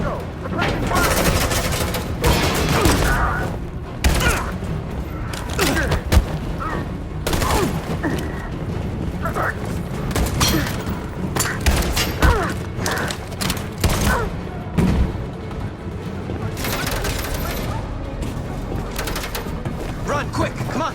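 Dense gunfire rattles on and on in the game Detroit: Become Human, with repeated bursts and sharp shots over a loud battle din. Voices shout urgently throughout.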